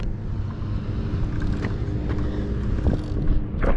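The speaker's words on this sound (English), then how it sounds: "you just hit the throttle and it just comes straight up" Talaria XXX electric dirt bike pulling hard under throttle, a steady broadband rush of wind and motor whine that swells slightly near the end, close to the mic with no talking.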